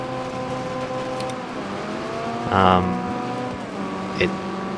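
Engine drone of a small Golf car driving around a scrapyard track in the racing game Wreckfest 2, with steady harmonic engine tones shifting in pitch, a brief louder burst midway, and a voice talking over it.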